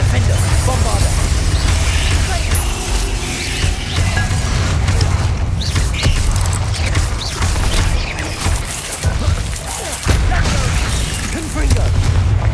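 Booming spell explosions and blasts in the Hogwarts Legacy video game, dense and loud, with a layered rumbling combat roar and crackling bursts under spoken voices.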